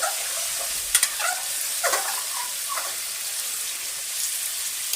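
Chicken pieces frying in oil in a pot for a Pakistani-style daane daar korma, giving a steady soft sizzle with a few light stirring scrapes, close up and without speech.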